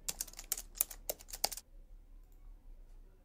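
A computer keyboard typed in a website search bar: a quick burst of about eight crisp key clicks over a second and a half, close and clear, then quiet room tone.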